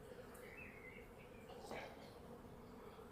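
Honeybees buzzing at an open hive during an inspection, a faint steady drone close by with a few brief louder passes, no talking.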